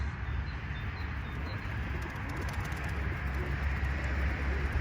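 Pet pigeons coo softly in a loft outdoors, a low, continuous murmur under steady background noise, with faint higher chirps and flutters near the start.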